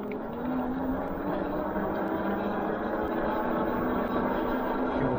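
A Dirwin Pioneer 26x4 fat tire all-terrain e-bike climbs an average hill on throttle only, its hub motor giving a steady, continuous whine over broad wind and road rumble that holds at an even level throughout.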